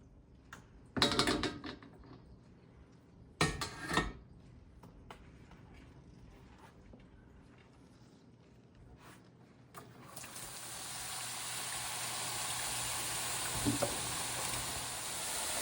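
Steady frying sizzle of homemade potato fries in hot oil after a few clattering knocks and bumps, the crackling hiss filling the background and growing denser.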